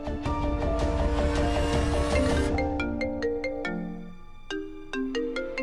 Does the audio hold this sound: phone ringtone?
yes